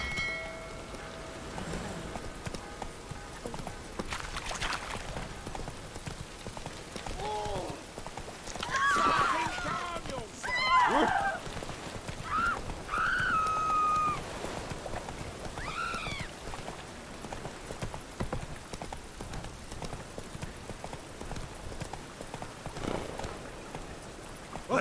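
Roach the horse galloping in The Witcher 3, rhythmic hoof clip-clops over game ambience, with occasional voices and other game sounds.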